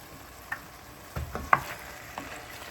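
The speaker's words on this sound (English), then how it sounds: "Gently mix them because you know your beans are cooked because they're from can." Canned red kidney beans are gently stirred in a pot over medium-low heat for a Turkish-style dish, giving a few soft, scattered scrapes and wet clicks, quiet and close, with no talking.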